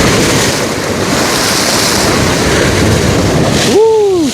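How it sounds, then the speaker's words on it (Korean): Steady roaring wash of surf breaking on rocks nearby on the Jeju coast, loud and continuous with wind buffeting, ending in a brief rising whistle-like tone. "파도까지 이렇게 쳐서 올라오니"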